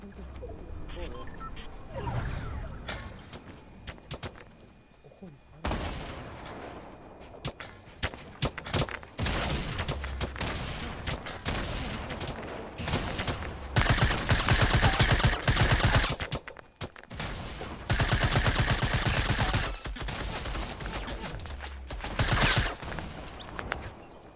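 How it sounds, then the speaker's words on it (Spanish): Repeated automatic rifle fire and scattered shots in the Fortnite video game, loud near bursts coming and going over a long stretch with players talking throughout. "No sé de dónde, pero me están disparando a mí"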